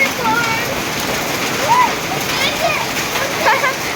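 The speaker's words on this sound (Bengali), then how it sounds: "আজকে ফার্স্ট, মানে এ বছরে প্রথম শিল পড়া বৃষ্টি হচ্ছে, শিলা বৃষ্টি।" Steady, dense patter of rain and hail with splashing water throughout, a constant wet hiss with faint higher chirps over it.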